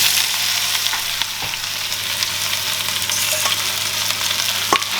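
Chopped onion sizzles steadily in a hot pan for a bitter gourd and potato curry, a continuous close frying hiss with a few soft clicks of stirring and no voices.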